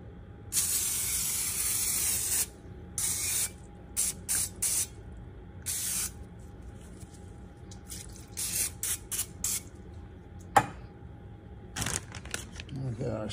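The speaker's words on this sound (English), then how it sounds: "we're gonna grease the parchment paper so it doesn't stick right there" Cooking spray misting over parchment paper laid in a roasting pan, heard as a series of short, sharp hissing bursts of varying length separated by brief pauses, close and fairly quiet.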